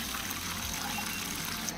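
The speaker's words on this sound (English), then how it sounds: "So we're going to put some hot water in a bucket here and see how hot we can actually get it." Hot water pours steadily into a bucket in a farm dairy, a continuous close gushing and splashing that runs unbroken throughout with no talk.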